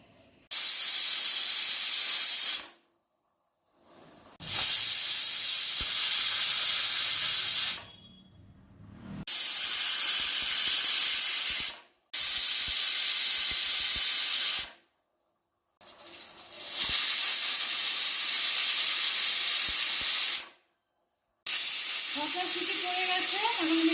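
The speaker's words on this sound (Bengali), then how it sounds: "আমি গ্যাসে বসিয়ে দিচ্ছি প্রেসার কুকার। আমি 6টা সিটি দেব, তারপর নামিয়ে নিব।" A pressure cooker of mutton curry on a gas stove vents loud, steady steam hiss in long bursts broken by several abrupt silences, with a faint bit of other sound near the end.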